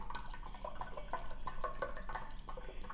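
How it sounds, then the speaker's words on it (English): Kangen water is poured from a large liter bottle into rinsed rice, giving faint, close trickling and dripping splashes in short irregular bursts against a quiet background. "So I'm pouring it out because I have a big old liter of Kangen water"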